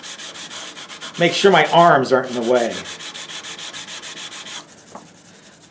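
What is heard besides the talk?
sanding a guitar neck heel with 220 sandpaper on a block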